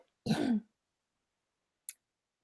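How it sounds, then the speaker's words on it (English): One brief, close throat clearing with a rough cough-like edge, followed by a faint tiny click and then silence; no one speaks during the clip. "Sorry for the coughing."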